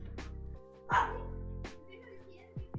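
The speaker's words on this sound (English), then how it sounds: "the life of having a tiny fluffy dog barks a lot" A tiny fluffy dog barks indoors, giving a few sharp, close yaps spaced out over a couple of seconds, with a faint whimpering tail between them.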